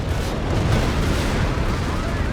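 Bombing run explosions in Company of Heroes 3 pile up into a dense, continuous roar of heavy booms and rumble, loud and sustained across the whole moment with no clear gaps.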